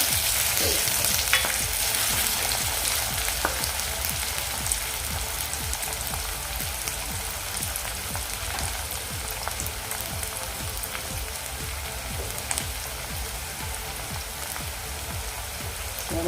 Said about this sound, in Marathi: आता टॉमॅटो आपला सॉफ्ट होईपर्यंत आपण हे परतायचं आहे